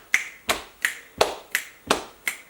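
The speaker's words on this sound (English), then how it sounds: "preferably a lap pat finger snap on 8th notes" Finger snaps keeping a steady eighth-note pulse in a rhythm practice exercise, seven crisp, evenly spaced snaps in about two and a half seconds, close and clear with no talking.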